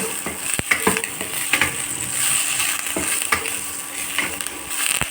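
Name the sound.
okra being sautéed in a pan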